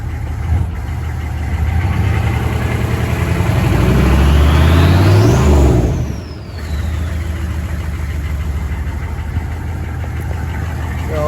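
A 6.5 turbo diesel dually truck engine idles loud and close, a steady low rumble that swells into a rising whine around the middle and then settles back to an even idle.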